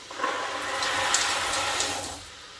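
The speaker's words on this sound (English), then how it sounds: "I'm going to pour in all of my beautiful peas." Peas pour into a pot of Hungarian pea soup with a continuous rushing, splashing pour lasting about two seconds, close and fairly loud before tapering off.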